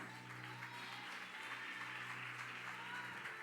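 Sustained applause from a church congregation during a service, a dense patter of clapping heard at a moderate distance over a low hum, no talking.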